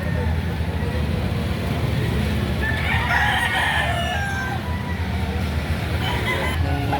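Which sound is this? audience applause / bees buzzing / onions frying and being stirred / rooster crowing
rooster crowing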